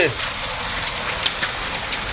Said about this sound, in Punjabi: ਦੇਖੋ ਕਾਰ ਦੇ ਉੱਪਰ ਕਿਵੇਂ ਗੜੇ ਡਿੱਗ ਰਿਹਾ